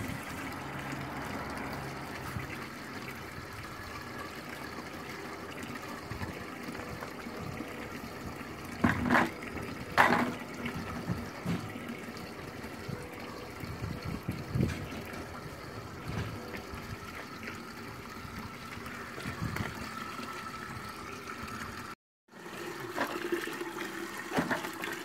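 Fruit and grape press filling with mains water up to 3 bar, a steady rushing flow of water with occasional clunks and gurgles, moderately faint and continuous, briefly cut near the end.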